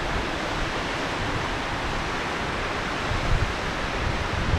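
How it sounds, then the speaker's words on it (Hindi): A large glacier-fed waterfall on a rugged Himalayan trek roars as a constant, dense broadband rush, loud and close with no pauses and no voices. "बीच में इतना बड़ा हमें झरना मिला है,"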